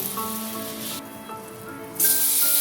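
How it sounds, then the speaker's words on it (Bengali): Dried red chilli, bay leaf and whole cumin sizzling in hot mustard oil in a pan, a steady crackling fizz that surges louder near the end. "আরেকটু সর্ষের তেল দিয়ে দিয়েছি ফোড়নে দিচ্ছি শুকনো লঙ্কা তেজপাতা গোটা জিরে দিয়ে দিচ্ছি হলুদ"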